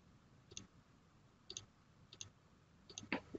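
A computer mouse clicks about four times at a steady pace, sharp and close, with the last click slightly busier than the rest and no talking.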